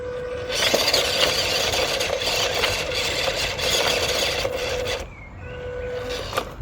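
Harsh grinding and scraping from the gearbox of a WPL C64-1 RC truck as it jams, a loud rasping whir with a steady squeal that cuts off abruptly, then briefly resumes.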